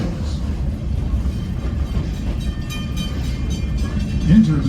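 A Sacramento Southern Railroad excursion train hauled by an SW8 diesel locomotive rumbles steadily along the Walnut Grove branch line with a low, continuous roar and faint rattling, a voice speaking briefly over it near the end.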